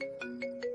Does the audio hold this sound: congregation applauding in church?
no